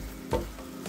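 Mushrooms with chopped garlic and paprika frying in a pan as they are stirred, a quiet close sizzle with one brief scrape of the spoon partway through.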